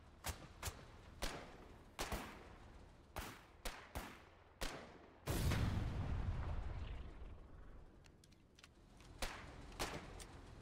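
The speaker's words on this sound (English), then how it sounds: "that is their artillery up there" Artillery fire in the war video game Foxhole during a large beach assault: repeated sharp booms at irregular intervals, with one longer rumbling blast in the middle and further thuds after it.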